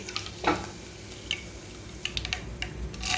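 Mustard seeds, cumin and chillies frying in hot oil for a bitter gourd tamarind stew, with a soft steady sizzle under scattered pops and spoon stirring noises, close and without talk.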